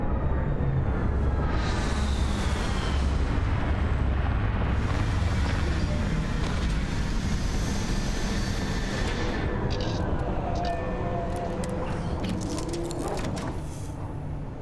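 Spaceship retro thrusters fire in the video game Starfield, producing a sustained, loud, roaring rumble that runs throughout, with a few sharp higher hisses and clicks near the end.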